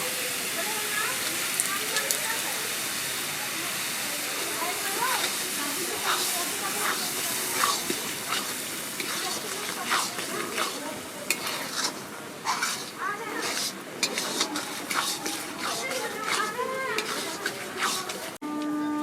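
Carrot halwa cooking with reduced milk in a pan, a continuous sizzle and hiss with scraping stirring strokes that grow more frequent near the end, while someone talks over it.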